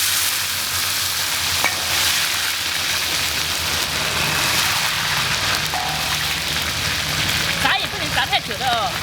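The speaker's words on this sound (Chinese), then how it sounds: "油温要热一点，然后下锅炸。" Pork belly frying in hot rapeseed oil in a wok, a loud steady crackling sizzle throughout with a brief bubbling burst near the end, and a voice speaking over it.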